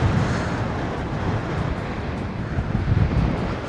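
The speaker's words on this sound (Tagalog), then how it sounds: "Sobrang lakas ng hangin lang." Strong mountaintop wind on Mt. Williams, San Jose, Nueva Ecija, Philippines, buffets the microphone with steady, rumbling gusts, no voices.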